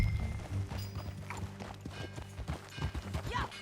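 Horse hooves clip-clopping in the video game Red Dead Redemption 2, a steady rhythmic trotting patter close by, layered with background music and ambient game sounds.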